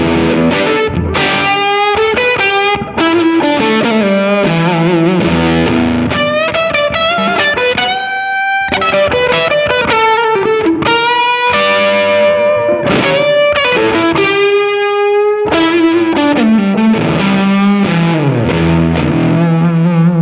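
Electric guitar runs through a boutique Fuzz Face pedal with both knobs cranked, playing loud, thick, saturated riffs and sustained chords continuously for about twenty seconds with no talking.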